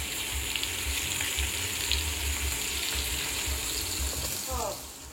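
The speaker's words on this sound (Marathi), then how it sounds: "इकडे निवटं फ्राय केल्या कलेजी" Fish and liver frying in a pan at a home kitchen, a steady broadband sizzle running throughout, close and moderately loud, with faint background voices and a brief rising tone near the end.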